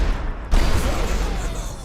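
Explosive booms from Uproar in the video game Dota 2 during a pro match, a sudden loud burst midway followed by a dense rumbling, crackling wash of blasts.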